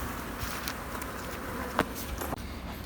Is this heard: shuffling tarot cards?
no